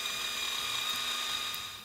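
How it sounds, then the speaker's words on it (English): An electric drill motor fitted with a 3/32 bit bores through scrap lumber, giving a steady high-pitched whine that holds close and loud, then drops away at the end. "grab your drill motor with a 3/32 bit, and drill all the way through"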